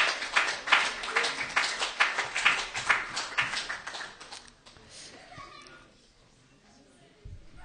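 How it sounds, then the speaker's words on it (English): A church congregation claps for the Sunday School children, a dense burst of hand claps that thins out over about four seconds and gives way to quiet room murmur and a few faint voices. "please give a warm round of applause for these amazing children"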